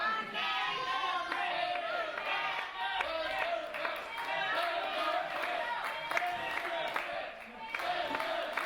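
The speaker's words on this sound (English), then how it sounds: "Listen to the crowd." Wrestling crowd at an FSW Nevada State Championship match, a dense roar of cheering and clapping that holds steady throughout, with a commentator's voice running over the noise.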